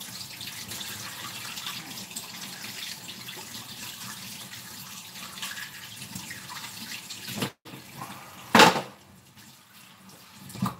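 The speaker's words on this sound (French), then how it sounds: "Je me lave les mains parce que la farine avec de l'eau," Hands being washed under a running kitchen tap to rinse off sticky flour and water, a steady close splash of flowing water that briefly cuts out and then returns with a few louder sloshes.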